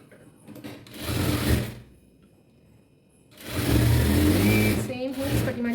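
A sewing machine stitches a child's frock in two loud whirring runs, one short and one longer, separated by a quiet pause, close up with no talk.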